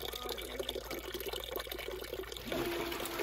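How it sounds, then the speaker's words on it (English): Water pours into a sump pump pit, fitted with an Acquaer 1/3 HP automatic submersible pump, as a continuous splashing wash of liquid. It grows slightly fuller near the end, with no voices. "I'm just adding water to the pit"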